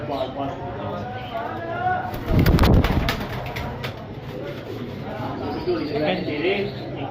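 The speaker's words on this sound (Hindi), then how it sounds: "एक से बढ़ के एक कबूतर है" Teddy pigeons cooing in soft repeated low calls, with a brief burst of wing flapping or handling noise midway and someone talking over much of it.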